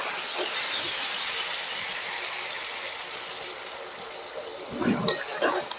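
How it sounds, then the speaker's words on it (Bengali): Water is poured into a pot of potato curry cooked with goat fat, making a steady rushing gush that slowly fades, followed by a few brief clanks and splashes near the end. "এবার আমি জল দিয়ে দেবো।"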